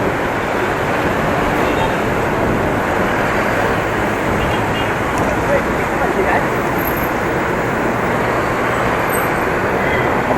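Steady, loud roar of highway traffic with goods lorries rolling past on a long motorbike ride, heard as a continuous close rumble blended with wind rush and no clear breaks between vehicles.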